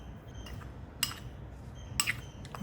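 A large spoon is put down and an ordinary spoon picked up in a home kitchen, making two short bright metallic clinks about a second apart over a low steady background hum.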